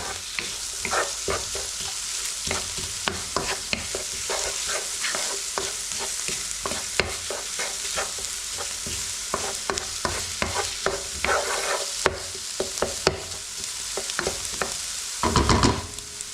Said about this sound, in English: Let that fry off a bit.